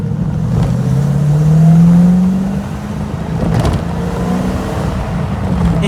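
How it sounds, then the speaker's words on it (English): A V8-powered car cruises along a country road into the Derbyshire Peak District, its engine droning loud and steady with a rising rev swell partway through, alone without talk. "let's hear the V8"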